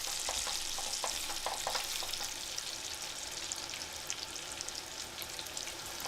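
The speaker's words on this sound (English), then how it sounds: "The frying is loud" Fat frying for pasta amatriciana, a constant loud sizzle and crackle with occasional stirring clicks near the start.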